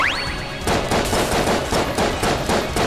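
Rapid gunfire in the video game Enter the Gungeon, loud, fast and regular, following a short rising electronic tone.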